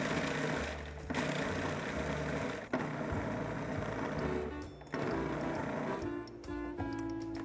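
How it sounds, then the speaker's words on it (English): A food processor pulses zucchini and mint pesto in short, loud mechanical bursts, with about four pulses separated by brief pauses and no talking. "We're going to pulse this a couple times to start forming a paste."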